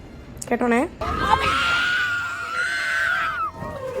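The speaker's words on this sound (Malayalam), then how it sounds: "നിങ്ങൾ കേട്ട ആ നിലവിളി ശബ്ദം എൻ്റെത് മാത്രമാണ്" A woman screams long and loud while riding a giant wheel at a carnival in Alappuzha, after a short burst of voices, the sustained shriek wavering for a few seconds before trailing off.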